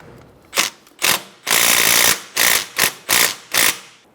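Ratchet wrench loosening 10mm bracket bolts on a Subaru Outback rear upper control arm, close, loud bursts of rapid clicking in a series of short strokes with one longer pull.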